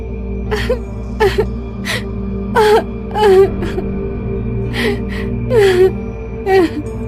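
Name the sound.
girl crying and wailing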